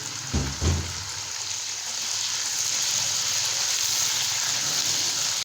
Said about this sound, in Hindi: अब हमने इसमें ये मटर डाल के फ्राई करना है।